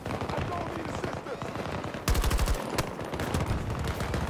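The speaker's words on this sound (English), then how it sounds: "Who's shooting at me?" Rapid automatic gunfire rattles in Battlefield 2042, dense bursts of shots with a louder, closer burst midway, continuing under the general din of battle.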